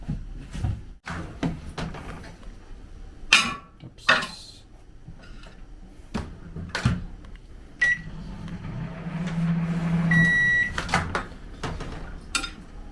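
Microwave oven heating tofu in a home kitchen, with a steady low hum running through the middle, a series of clicks and clatter of dishes and cupboard doors around it, and several short beeps near the end.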